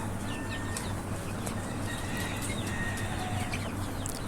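Native chickens on a poultry farm clucking and calling intermittently over a steady low hum, with faint bird chirps scattered through.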